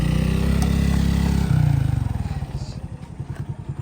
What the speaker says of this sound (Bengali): সে নাকি বোটকাকে নিয়ে এই বাইকটা দিয়ে উঠাবে এখানে